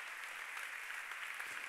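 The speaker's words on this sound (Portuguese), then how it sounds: "Pode aplaudir bonito a Jesus" Applause from a church congregation during a worship service, a continuous soft patter of many hands clapping, steady and somewhat distant throughout.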